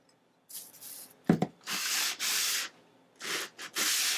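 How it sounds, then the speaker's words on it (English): Planer blades from a DeWalt DW733 are hand-sanded with 220 and 500 grit sandpaper, giving several separate bursts of close, hissy rubbing strokes with short pauses and a brief knock between them. "Now I've got some 220 here, and then some 500, and we're going to sand this up."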